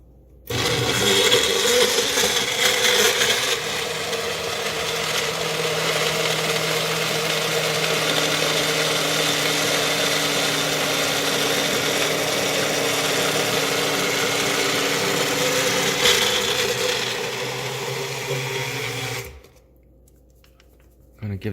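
A Magic Bullet blender motor whirs loudly and steadily up close for nearly twenty seconds, with a slight shift in pitch partway through, then cuts off abruptly.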